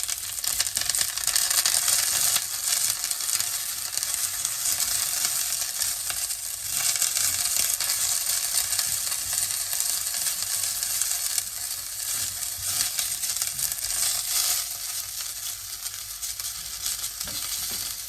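Onion and garlic sizzle steadily in a hot pan for a vegetable curry, a close, continuous bright frying hiss with faint stirring scrapes and no talk.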